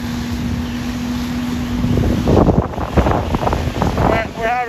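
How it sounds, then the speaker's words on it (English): Strong storm winds of around 40 to 50 mph gusting during a Christmas morning structure fire in Wall, New Jersey, roaring and buffeting the microphone continuously with rising rumbles, while a voice speaks briefly near the end. "So the wind's really battering this storm."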